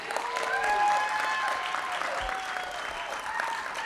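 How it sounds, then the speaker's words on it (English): Steady applause from a crowd at a college ribbon-cutting ceremony, a dense wash of clapping that holds for a few seconds without pause. "Clap for them, please."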